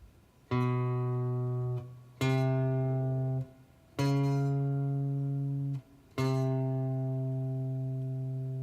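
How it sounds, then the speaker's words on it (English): Four sustained plucked guitar notes, each ringing out clearly before the next, played one at a time at a slow, even pace with no voices. "we're just going to play what we call a melody, which is just single notes"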